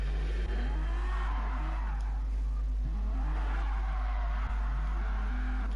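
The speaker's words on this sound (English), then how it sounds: "Fantastic sliding about from the Dutchman." A DTM race car in a sim racing video game slides and spins, with tires squealing in long wavering whines over a loud, continuous engine drone and no talking.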